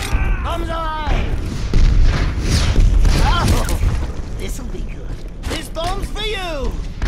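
Junkrat's bombs thump and boom during an Overwatch match on Lijiang Tower, amid dense game noise. Character voice lines play over the blasts.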